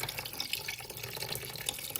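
Fluid runs steadily out of a car engine as it drains, a continuous close trickling splash with no voices.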